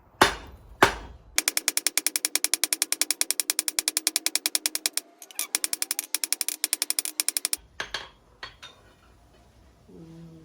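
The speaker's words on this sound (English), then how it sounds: "Now we're going to draw a fine taper, a short but fine taper," A hammer draws a short, fine taper on hot steel for a forged gambrel, a fast, even run of loud, ringing metallic blows close by, broken by a brief pause, then scattered lighter taps.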